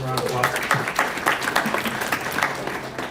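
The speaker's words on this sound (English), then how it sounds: "Give him a round of applause." An audience at a hackathon's opening remarks claps for a few seconds, a moderate patter of hands mixed with voices.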